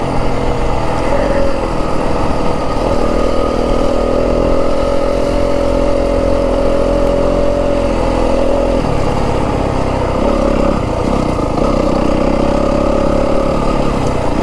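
A 2025 Yamaha WR250F four-stroke dirt bike engine runs steadily and loudly up close, holding a buzzing idle-to-mid rev with slight shifts in pitch around the middle, without any talk.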